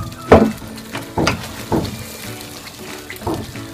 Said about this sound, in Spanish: limpiamos la botella donde estaba la salsa con un poquito de agua y la agregamos así